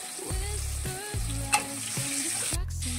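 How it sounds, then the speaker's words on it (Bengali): Diced potatoes fry in hot oil in a pan for a chicken curry, giving a steady close sizzle with a few light stirring scrapes and no talk. "আমি ডুমো ডুমো করে কেটে রাখা আলুগুলি একটু ভেজে নেব।"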